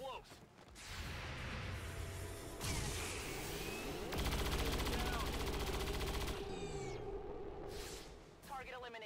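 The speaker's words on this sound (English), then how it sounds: "Great overwatch shots." Overwatch gunfire in the XCOM 2 video game, with a burst of shots cracking over game noise and rapid mechanical rattling, while in-game voices speak.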